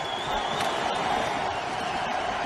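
Stadium crowd at an NFL American football game between Washington and Philadelphia, a steady, moderate, distant roar of many voices with no sharp cheers.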